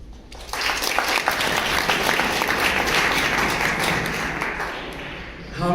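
Applause from a storytelling-show audience, steady and fairly close, with scattered claps and a few voices mixed in, swelling after a brief start and holding until it fades near the end.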